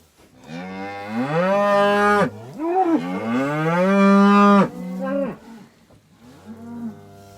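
A calf on a farm gives long, loud, close moos, three drawn-out calls in a row with a softer fourth at the end, no talking.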